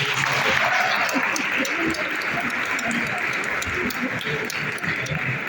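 Sustained applause from a large crowd for a choir, dense and steady throughout, with a few faint voices mixed in.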